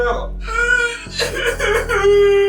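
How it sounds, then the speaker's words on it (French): A person cries and whimpers in short, shaky sobbing bursts with strained vocal tones, close and fairly loud, with no other talk over it. "Ah, il pleure!"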